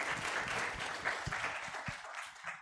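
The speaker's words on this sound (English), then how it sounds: "we can give him a round of applause." A forum audience breaks into steady applause, a dense wash of clapping heard fairly close that tapers slightly toward the end.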